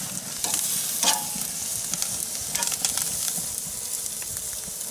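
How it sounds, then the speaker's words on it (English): Steak searing in a hot pan during a reverse sear, with a continuous crackling sizzle and sharper bursts of spatter, loud and close throughout. "Gonna throw it back on for another 30 seconds on each side."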